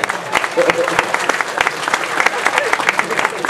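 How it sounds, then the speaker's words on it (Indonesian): An audience at a Maiyahan Mocopat Syafaat gathering breaks into dense, sustained applause, with many hands clapping at once in a steady crackle that carries through the whole stretch, and some voices mixed faintly into it. "Oke, tepuk tangan semua teman-teman sekalian."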